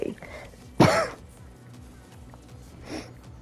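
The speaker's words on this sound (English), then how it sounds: "Sorry about the cough" A single short cough bursts out close to the microphone, standing out sharply against quiet game sounds and faint background noise.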